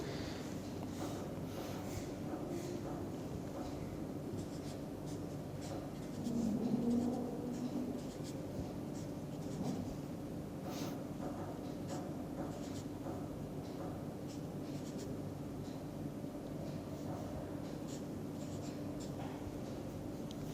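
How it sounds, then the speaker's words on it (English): Marker or pen writing chemical structures by hand on a board during a chemistry lecture, a steady faint scratching that runs on and off throughout with no talk. "So, let me write the structures of those."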